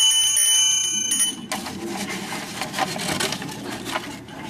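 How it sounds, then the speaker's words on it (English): A small, cheap hand bell used to signal at an office switchboard rings with bright, sustained tones for about a second and a half, then gives way to a rough, broadband rubbing and rustling noise. "we'd have her ring this little bell"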